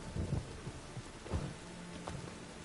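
Rain falls in a city in The Witcher 3 game, a faint steady patter with soft low rumbles and scattered drops that sit fairly distant and gentle, with no one speaking.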